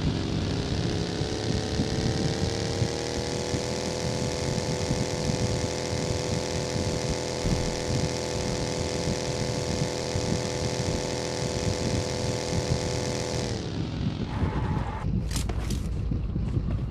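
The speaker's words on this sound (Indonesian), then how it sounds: "Ada motor di depan, bang." Motorcycle engine in the video game PUBG Mobile, a steady droning hum held for about thirteen seconds before cutting off abruptly, followed by brief scattered clicks and noise.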